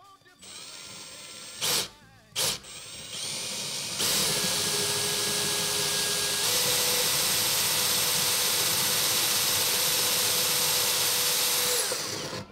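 A power drill whines briefly twice, then runs continuously at high speed, its pitch shifting as it bores through a Celestion Ditton 33 speaker cabinet for binding posts, loud and close.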